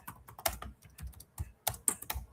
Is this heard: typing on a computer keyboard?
yes